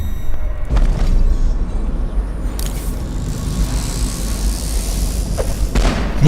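A grenade goes off in the video game Dishonored: a heavy, loud thud-like blast followed by a second booming impact and a rumbling low tail, with no voices over it.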